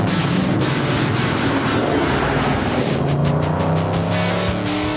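Drag racing cars roar down the strip, with loud, sustained engine noise throughout and a pitch that climbs as they accelerate away.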